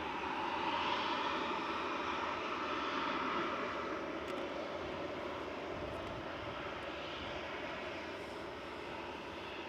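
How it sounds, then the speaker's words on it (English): An easyJet Airbus A320-200 arriving from Milan at Manchester Airport produces a continuous jet engine roar, strongest early and gently fading, a broad rushing noise heard alone without speech. "Still will be EasyJet from Milan."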